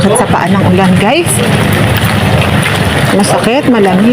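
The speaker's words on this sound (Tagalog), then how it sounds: "Ang ulan, sakit sa paa ng ulan guys." Rain falling at an outdoor market in San Pedro, a loud, dense hiss that fills the whole stretch while someone talks over it.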